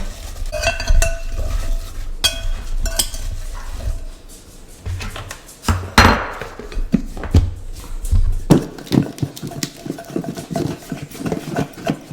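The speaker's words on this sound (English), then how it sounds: "we'll add this flour sugar mixture to the apples, and then just mix it up and stir it around a little bit" Apples tossed with a flour and sugar mixture for an apple pie are stirred in a bowl, with clinks and scrapes of a utensil against the dish and scattered knocks, close and fairly loud in a kitchen.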